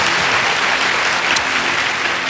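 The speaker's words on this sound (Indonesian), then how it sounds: "Berikan tepuk tangan kita untuk Tuhan kita." Loud, dense applause from a church congregation fills the space steadily, a thick continuous wash of many hands clapping at once.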